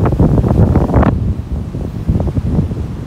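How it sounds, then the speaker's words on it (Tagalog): Strong wind roaring past the microphone on the deck of a Royal Caribbean cruise ship off Miami in stormy, rainy hurricane weather, with big waves surging below, loud and continuous. "Laki ng alon."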